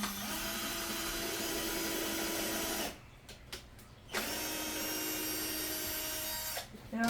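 A power drill bores a hole in a Christmas craft, whirring steadily for about three seconds, then stopping and starting in brief bursts before a long continuous run that cuts off near the end.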